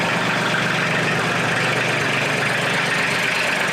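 A Mahindra 1626 HST compact 4WD tractor engine runs steadily close by while the front loader lifts, a continuous broadband diesel drone with no talking.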